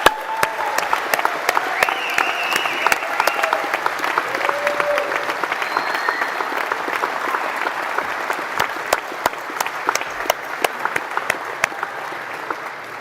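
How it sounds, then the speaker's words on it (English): A large graduation audience applauds for parents and families, dense sustained clapping filling the hall at a steady loud level without a break. "And let's give them a round of applause again."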